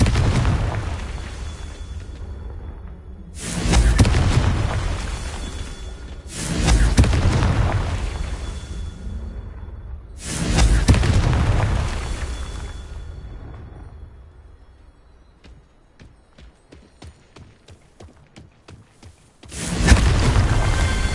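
Confringo spell blasts in the Hogwarts Legacy game hit as a series of loud, deep booms that each fade into a rumbling tail, with a stretch of faint crackling before a final blast and no talking.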